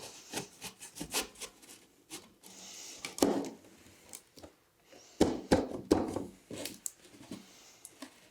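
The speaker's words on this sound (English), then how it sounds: "Now I can slide my 1/4 inch bottom panel into place." A quarter-inch wooden drawer bottom panel sliding into its grooves, heard as close, quiet scraping rubs and sharp knocks in an irregular series with short pauses between.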